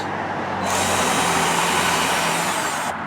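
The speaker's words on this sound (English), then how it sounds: "what you got to do is you got to take a drill and" A power drill whirs steadily at high speed for a couple of seconds, loud and close, then spins down; no one talks over it.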